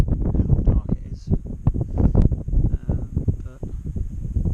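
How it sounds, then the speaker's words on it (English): Strong wind buffets the microphone in constant heavy gusts at a wild campsite by Llyn y Fan Fach lake, a low roaring rumble that never lets up. "Quite windy, but nice."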